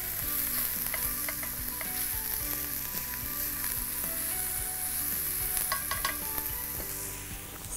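Onions sizzle steadily in a hot pan, with scraping and clinking from stirring scattered through the close, continuous frying noise.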